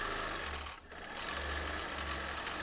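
Home sewing machine stitching free-motion quilted flames across a T-shirt quilt, a steady close rapid hum with one brief slowdown partway through.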